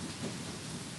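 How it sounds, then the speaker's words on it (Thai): Heavy rain pours at a forest temple at night, a steady, dense broadband hiss of downpour that fills the whole moment with no talking. "ณวัดป่าแดงฝนตกมากเลย"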